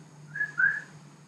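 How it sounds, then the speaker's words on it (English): Two short, clear whistle tones sound close by, the second slightly longer and louder, against a quiet background hum. "And you have special whistles that have a noise of a male duck"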